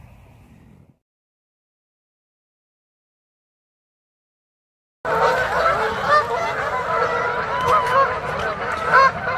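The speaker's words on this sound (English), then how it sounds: "Well, the geese are departing for the day," Geese honk repeatedly as they take off at a fishing spot, a loud overlapping chorus of calls that bursts in after a long silence, with a faint murmur before it.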